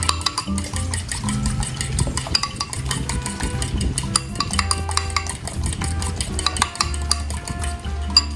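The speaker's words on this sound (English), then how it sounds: "grab a fork, break the yolk, and then just whisk that up" A fork whisks egg in a dish, rapid metallic clinks and taps ticking on without pause, with light clatter of utensils close by and no talking.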